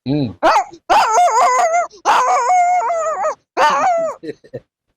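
A man imitates a dog with his voice, producing loud, close bursts of whimpering, yelping barks and growly howls in several separated phrases.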